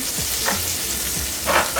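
Meat sizzling and frying in a pan for carbonara, a steady crackling hiss with a few brief stirring bursts, close and continuous with no talk.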